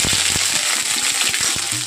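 Cumin seeds and ginger hit hot oil, giving a loud, steady sizzle and crackle up close, dotted with sharp pops and spits, with no voice over it.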